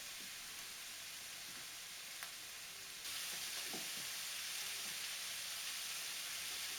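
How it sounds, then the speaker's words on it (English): Carrots and peppers sauté in a hot, crowded wok, giving a steady, fairly faint sizzle that swells louder partway through, with a few soft stirring clicks. "just trying to sauté an entire wok full of stuff"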